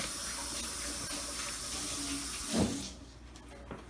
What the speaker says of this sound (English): it's most important to always wash your hands before you start to handle your food